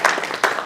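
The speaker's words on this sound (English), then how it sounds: "can we have a round of applause for our" Brief applause from a meeting audience for panelists, a short burst of scattered hand clapping heard close and fairly loud.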